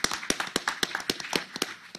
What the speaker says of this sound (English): I would like to ask you to give a round of applause to Steve Barnes and Rebecca Anderson